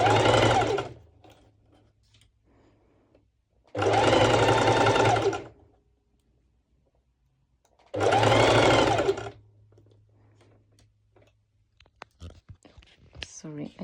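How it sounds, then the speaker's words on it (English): A sewing machine stitches the bust seam of a one-shoulder twisted knot top in three even, loud bursts of rapid whirring, each about a second or more long, separated by quiet pauses, followed by small handling clicks. "And I try not to rush too much with the bust stitching because I do want my fabrics to stay in place and not move."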